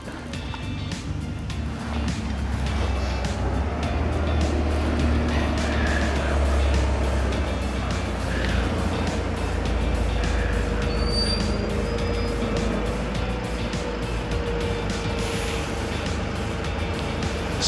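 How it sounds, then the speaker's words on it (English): A shuttle bus pulls in at Cradle Mountain, Tasmania, its engine rumbling steadily closer with faint brake squeals and hisses, heard from the roadside. "Here comes the bus."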